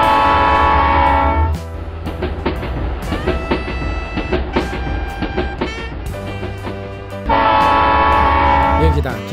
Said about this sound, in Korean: 여기다 기차 소리 효과음까지 넣었더니 신나지 않나요?